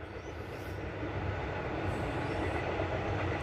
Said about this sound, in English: Train going past again.